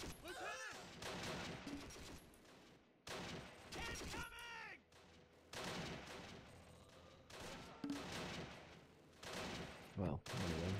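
Gunfire in the Close Combat: The Longest Day war game, with repeated bursts of shots and volleys spread across the span, loud and busy, mixed with game voices and other battle noise.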